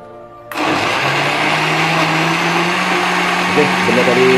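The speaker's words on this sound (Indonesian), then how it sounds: "seterusnya kita akan blender bahan tadi" A kitchen blender switches on abruptly and whirs loudly and steadily, its motor pitch settling into a constant high roar while blending ingredients for crispy fried tofu.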